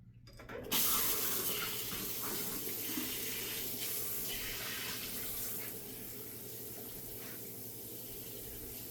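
Steady running water from a salon basin tap as conditioner is rinsed from hair during a luxury shampoo service, beginning with a short gush and continuing evenly without speech.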